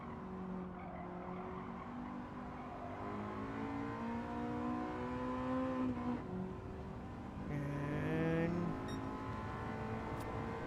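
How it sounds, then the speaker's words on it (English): A Toyota Prius engine in Gran Turismo 7 revs and climbs in pitch, dips, then winds up again, a steady moderate drone with a brief tire squeal near the end. "why the engine revs up, but we're not really going anywhere"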